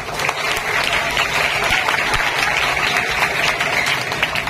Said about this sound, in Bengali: তোমরা আমি রিকোয়েস্ট করব সকলের জন্য একটা হাততালি দাও